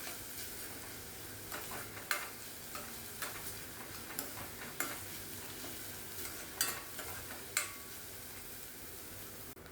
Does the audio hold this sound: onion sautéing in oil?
yes